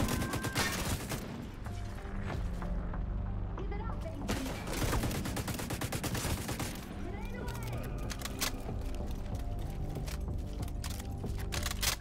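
Heavy suppressive gunfire in The Division 2, dense bursts of automatic shots and fusillades, loud and close, with a brief lull before firing resumes, mixed with game effects.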